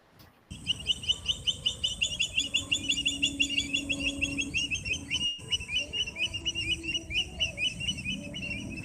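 A rapid series of shrill, whistled calls of the Indian thick-knee, a nocturnal bird, repeats steadily, loud and close, imitated by a human voice with no speech.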